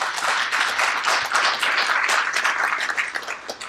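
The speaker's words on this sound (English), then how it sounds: "Please give all of our speakers another round of applause." Audience applause for the speakers at a local education referendum debate, a loud continuous crowd of clapping hands that carries on without pause.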